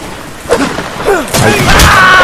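Cannon fire in the Napoleonic Wars module of the video game Mount & Blade: Warband: several loud booming blasts and thuds land in quick succession over a continuous battle din, with a voice faintly mixed in.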